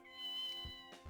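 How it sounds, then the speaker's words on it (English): Cat meowing in the video game Ghost Trick: a single drawn-out meow with a bright tonal cry, clear and alone over a quiet sustained musical tone. "That's a cat."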